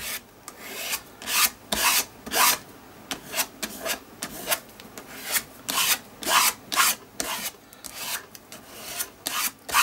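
Paint being scraped across a paper background, heard as a steady series of rough, rasping strokes repeating roughly every half second, close and fairly loud with no voices.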